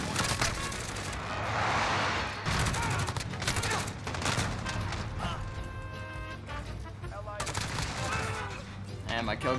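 Rapid automatic gunfire from a Gold Dismemberment Grau rifle in a first-person shooter video game, loud bursts of repeated shots with brief gaps and game clatter mixed in.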